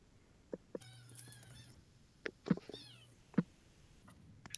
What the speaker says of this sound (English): I hear kittens.